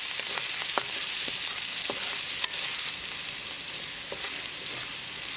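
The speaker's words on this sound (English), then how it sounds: "Now we're going to add ginger and garlic and mix it. Cook until the raw garlicky flavor is gone." Ginger and garlic fry in a pan for palak lamb keema, a loud, steady hiss of oil running throughout, with a few faint clicks of a stirring utensil and no talking.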